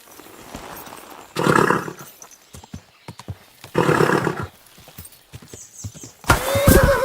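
A horse in the video game Kingdom Come: Deliverance 2 snorts and whinnies in a few loud bursts, with scattered hoof clops and clicks in between.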